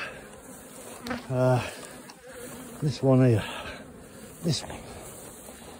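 Bees buzz loudly around an aggressive, strong beehive in close-up, their drones rising and falling in several swelling bursts while someone speaks briefly.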